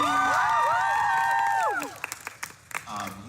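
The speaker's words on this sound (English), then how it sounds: "You just applauded yourselves for being awake." A convention crowd at a Sunday fan panel bursts into loud cheering with high whoops and shouts, which give way to scattered claps and fading noise.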